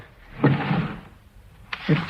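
A top right-hand desk drawer in an office being pulled open, two soft wooden sliding thuds with a small click between them, close and moderately loud.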